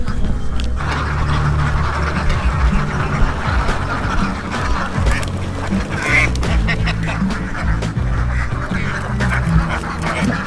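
A flock of ducks on a river in flood season quacks loudly and continuously, with dense overlapping calls close by and some background clatter.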